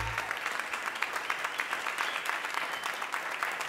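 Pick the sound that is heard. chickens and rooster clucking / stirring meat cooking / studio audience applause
studio audience applause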